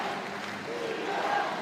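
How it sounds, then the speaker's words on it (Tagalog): Basketball crowd in an arena during a tied professional game, a dense steady roar of many voices with a faint chant rising near the end, continuous and fairly loud throughout. "you can hear the defense once again from the crowd"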